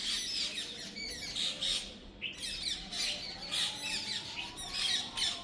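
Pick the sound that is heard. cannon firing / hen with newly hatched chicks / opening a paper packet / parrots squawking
parrots squawking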